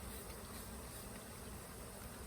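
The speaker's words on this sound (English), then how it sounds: "there's a few bees still in here" Bees buzzing around a newly started hive, a steady dense drone that stays even and close throughout with no other sounds.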